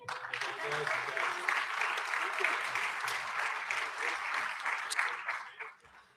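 An audience at a graduation ceremony for CNC machining and quality control students applauds steadily, many hands clapping at moderate loudness with faint voices underneath, then fading out at the end.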